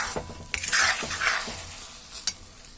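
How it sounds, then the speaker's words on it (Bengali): Sugar and jaggery melting into plum chutney are stirred in a pan, giving a handful of soft scraping strokes and clinks of the spoon over a faint low sizzle, close by with no talk. "আমার চিনি আর গুড়গুলো মেল্ট হয়ে যাচ্ছে, এভাবে নাড়তে নাড়তে"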